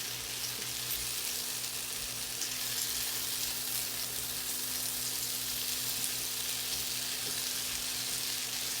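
Potatoes, carrots and cabbage cooking in a pot with whole milk, heard as a continuous even sizzle and bubbling hiss at close range, steady and unbroken with no voices.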